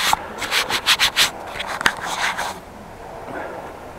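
Scratching and rubbing from a camera being cleaned, a run of close, rhythmic scrapes in quick succession that fade into quieter rustling.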